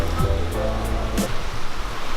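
Flood water rushes through an alley in Atlanta, a loud, continuous broadband roar of churning water close by, steady throughout.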